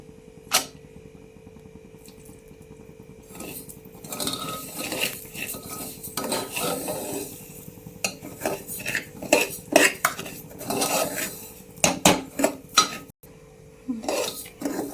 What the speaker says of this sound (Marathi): थोडस तूप टाकून भाजायचं